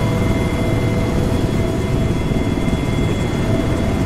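An Mi-8 helicopter in a video game approaches with a dense, continuous engine and rotor roar that holds steady and loud throughout, with no talk over it.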